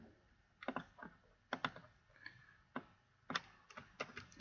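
Faint, irregular clicks of computer keyboard keys being typed in short bursts, close by in an otherwise quiet room.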